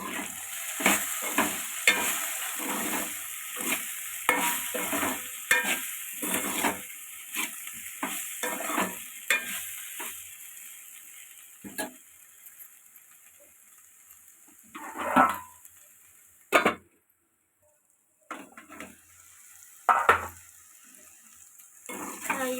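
Okra curry fries in a pan with Maggi masala while a spoon stirs it in steady, rhythmic scrapes over a sizzling hiss. Later come a few sparse clinks and scrapes against the pan.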